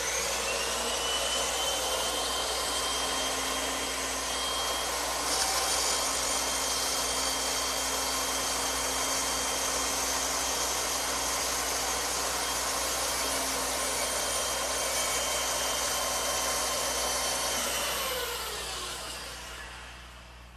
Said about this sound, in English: ideally, it's nice to have a bandsaw like this one